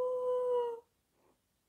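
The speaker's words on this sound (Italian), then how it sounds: "alla luna mostra i denti e ululare la notte lo senti" A wolf howls at night in a single sustained, steady tone that cuts off abruptly, followed by near silence and a faint short sound; no voices.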